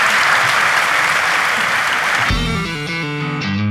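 Studio audience applause on a Turkish talk show, a dense wash of clapping that continues steadily before music with a clear melodic line enters partway through and plays over the fading applause.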